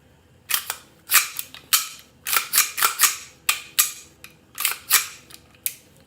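A Bushmaster Carbon 15 rifle is dry-fired during a function check, its trigger and hammer making a quick, irregular series of sharp, close mechanical clicks, some single and some in tight pairs.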